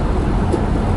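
A car being driven to work gives a brief, steady low road rumble with broadband engine and tire noise heard from inside the vehicle.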